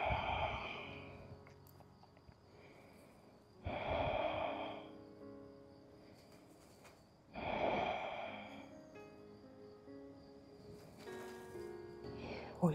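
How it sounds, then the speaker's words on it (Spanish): Audible breathing during a yoga sun salutation session, three slow, deep breath sounds spaced several seconds apart, fairly close, with quiet pauses between. "Escucha tu respiración"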